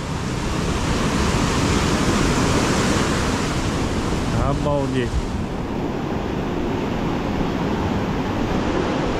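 Storm waves crash against the Crimean shore and a pier, a loud, continuous roar of surf and wind, with a person briefly exclaiming in the middle.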